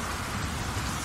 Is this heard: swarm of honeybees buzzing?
no